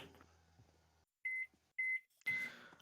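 Three short, clear electronic beeps, evenly spaced and fairly loud, follow a brief low hum and a moment of silence; the last beep trails into a burst of noise.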